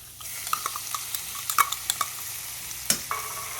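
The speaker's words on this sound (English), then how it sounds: "we're going to saute all of this together until everything becomes nice and soft" Poblanos, onions, green chilies and garlic sauté in oil, a soft sizzle under repeated spoon taps and scrapes against the pan, close and fairly quiet.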